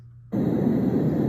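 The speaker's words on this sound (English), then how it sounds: "Another white noise sound." A Dreamegg sound machine switches on after a brief quiet moment, then emits a steady, even broadband hiss of white noise that holds unchanged at close range.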